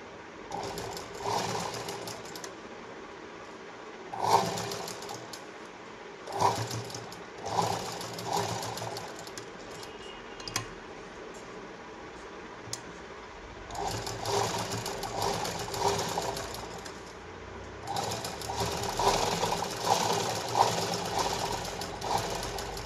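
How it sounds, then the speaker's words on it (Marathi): A sewing machine double-stitches a blouse in bursts, its fast mechanical whirr starting and stopping several times, loud and close with brief pauses between runs. "कधी पण आपल्याला डबल शिलाई मारून घ्यायची"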